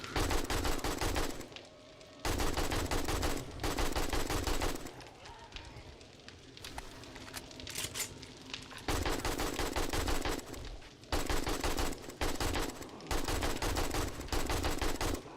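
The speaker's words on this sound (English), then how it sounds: "My bullets are also passing through the mobs that are in the front, hitting the mobs in the back." Automatic gunfire from the 7 Days to Die game rips into zombie mobs in long, loud, rapid bursts. Brief gaps separate the volleys, and the quietest stretch falls near the middle.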